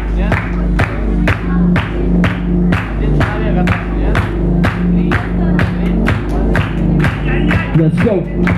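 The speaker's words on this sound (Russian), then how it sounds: "Хлопаем, соедини свои ладоши." A crowd at a house dance battle claps hands in a steady, regular beat, each sharp clap landing evenly about every half second over a thumping bass-heavy music track, loud and close throughout.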